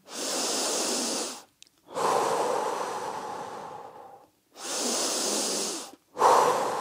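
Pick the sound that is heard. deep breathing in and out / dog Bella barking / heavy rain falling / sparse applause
deep breathing in and out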